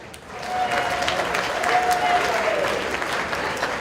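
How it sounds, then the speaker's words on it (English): Wedding guests at The Merion in Cinnaminson, NJ clapping in a warm round of applause, swelling quickly and holding steady, a dense patter of many hands with faint voices underneath. "How about another round of applause there?"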